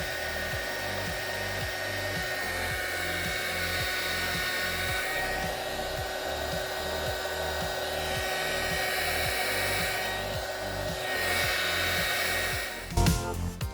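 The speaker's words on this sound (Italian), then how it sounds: "Poi utilizzo il mio phon" A hair dryer blows steadily on heat-shrink tubing wrapped over wire contacts in a home electronics build, a continuous close whir with a pulsing low drone, ending in a brief clatter as it is switched off.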